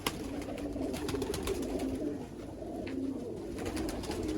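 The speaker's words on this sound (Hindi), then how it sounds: "देखो जी लाजवाब टैडी कबूतरां दा शौक" Teddy pigeons coo continuously as a flock, with soft overlapping throaty rolling calls close by and no talking.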